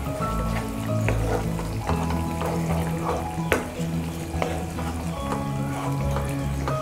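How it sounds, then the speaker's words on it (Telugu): Chicken curry with jackfruit seeds, coriander powder and garam masala is stirred in a pot, a close, bubbling sizzle overlaid by steady scraping strokes and occasional clinks of the spoon, with no voices. "ఇవి వేసేసుకున్న తర్వాత ఇంకొకసారి ఇదంతా బాగా కలిసేటట్లుగా కలుపుకోవాలి"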